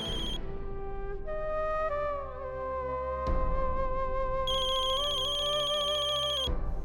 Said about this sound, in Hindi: इस फोन की वजह से हमारी नींद खुल गई